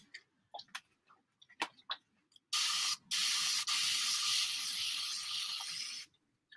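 Spray bottle misting onto mixed media paper in a craft session: a loud, steady hiss runs about three and a half seconds with brief breaks, after a few soft taps and clicks.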